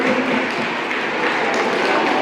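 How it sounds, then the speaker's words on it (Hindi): Loud, sustained applause from an audience honouring teachers at a Saraswati Puja ceremony at a school hall in Kolkata, dense clapping filling the room continuously from start to finish. "तो एक बार जोरदार ताली हमारे गुरुओं के लिए।"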